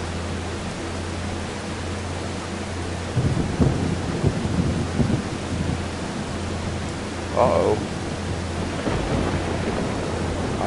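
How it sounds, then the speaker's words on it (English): Rumbling thunder in the farming game Farming Simulator 25 rolls in low and broad behind steady rain-like noise, swelling midway, with a brief spoken exclamation over it. "I'm hearing thunder."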